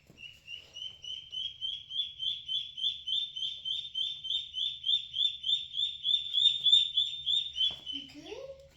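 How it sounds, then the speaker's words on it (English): A bird calls in a rapid, steady series of about two dozen high, evenly spaced notes, clear and fairly close over a quiet low background hum, ending with a brief lower squawk. "The ducks are calling me, and so the duck is getting called."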